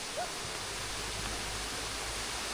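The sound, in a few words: waterfall by a small footbridge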